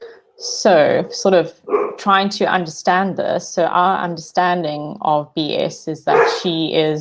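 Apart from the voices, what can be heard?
dog barking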